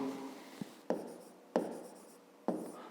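A pen writing a math equation on paper, close and quiet, with a few short scratchy strokes and taps marking separate characters, with pauses between them.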